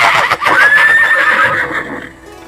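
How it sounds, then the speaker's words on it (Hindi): A horse whinnies loudly and close, a single rising-and-falling neigh that trails off into quiet breathing. "जो घोड़ा हिनहिनाट करता है"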